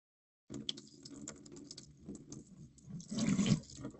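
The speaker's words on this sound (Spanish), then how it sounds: "abro la llave del grifo y bebo sin darme cuenta" Water runs from a kitchen tap in a steady hiss that starts abruptly and swells louder near the end, with no talking.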